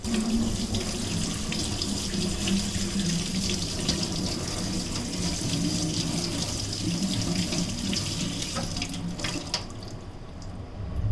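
Tap water runs steadily into a sink while lobster pieces are rinsed under it, a close, continuous splashing hiss that thins out near the end.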